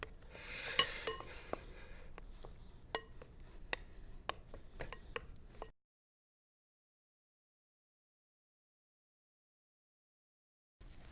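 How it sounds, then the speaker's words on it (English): A spoon works pierogi dough with melted butter in a bowl, making repeated clinks and scrapes against the sides for several seconds, close and fairly quiet, then cutting to silence. "Okay, now we're going to mix this thoroughly."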